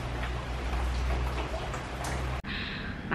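Steady heavy rain pouring outdoors at a home where a child plays, a dense constant hiss close by with a sharp brief knock near the end.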